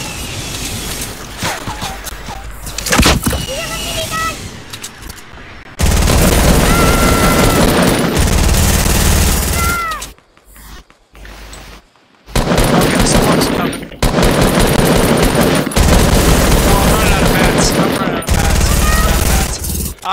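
Rapid gunfire from a shooting video game rattles in loud, dense bursts, with short silent gaps and sudden restarts between volleys, amid busy game noise.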